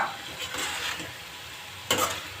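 Chopped garlic sizzles in a pan for pasta while being stirred, soft scraping strokes over a faint steady fry, with a louder sharp stir near the end; no voices.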